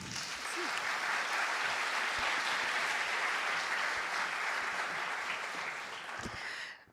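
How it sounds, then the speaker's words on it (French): A conference audience applauds at the opening of a women-in-cybersecurity event, steady dense clapping that holds for about six seconds before tapering off, with no voices over it. "Sous vos applaudissements."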